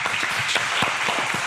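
Close, loud applause from an audience welcoming a startup founder to the stage at a pitch event, busy clapping with individual hand strikes audible near the microphone.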